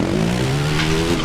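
In the Dakar Desert Rally video game, a rally car spins a full 360, producing a loud, unbroken engine drone layered with skidding tire noise that stays steady for about a second.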